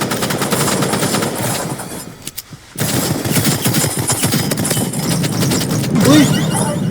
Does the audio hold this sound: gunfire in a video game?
yes